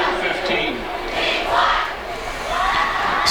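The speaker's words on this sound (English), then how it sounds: "Plenty of chanting from them." Chanting and shouting from a high school student section at a homecoming football game, a loud crowd roar that swells and ebbs in rhythmic waves, with an announcer talking over it.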